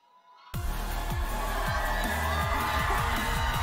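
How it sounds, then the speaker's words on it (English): Esports fans at the League of Legends Worlds 2022 group stage erupt suddenly into loud, sustained cheering and whooping after a brief quiet moment. "as the fans are cheering very much for Pioshik"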